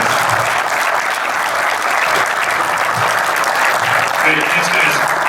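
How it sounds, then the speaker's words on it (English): An audience gives a sustained round of applause for baseball players at a team relaunch event, dense, even clapping that stays loud throughout. "Let's give them their first round of applause."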